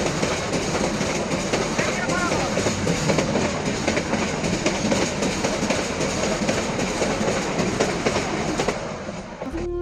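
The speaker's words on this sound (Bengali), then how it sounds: "রাস্তার সামনে যাওয়ার সাথে সাথে ট্রেন চলে আসলো।" A train rolls past close by near a rail crossing, a loud continuous rumble and rattle of wagons with clickety-clack wheel beats filling the clip before easing off at the very end.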